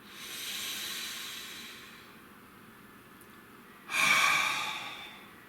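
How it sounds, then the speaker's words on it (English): Two slow, deep breaths from a nearby person: a long airy inhale that fades away, then a sharper, louder exhale a few seconds later. "Nice deep breath."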